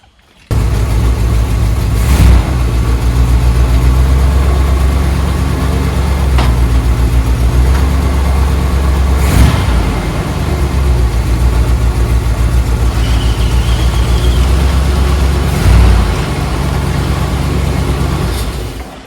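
A Dodge Prospector's newly installed engine runs steadily close by, a deep continuous idle with a few brief revs rising and falling over roughly twenty seconds.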